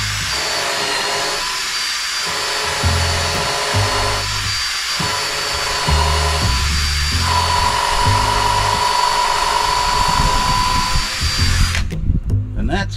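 A small power drill whines loudly and close up in several bursts during a patio deck build with joists, stopping and restarting under a steady background hum, with a brief clatter at the end.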